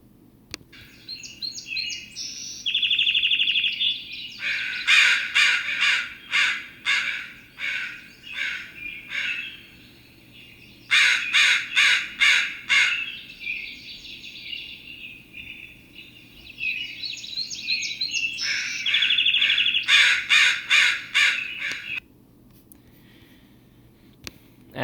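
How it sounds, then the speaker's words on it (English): A crow caws and a song sparrow sings its loud, powerful song, the two alternating in bright, repeated bursts of notes close by, with short pauses between phrases and a low steady hum beneath. "I hope you can tell the difference now between a song sparrow and a crow, because there was a crow in there too."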